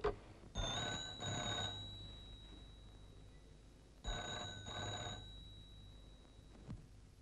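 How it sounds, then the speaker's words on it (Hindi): An old telephone bell rings twice in a double-burst pattern, with a pause between the rings, fairly clear against a quiet room. "सरकार, आपका फोन।"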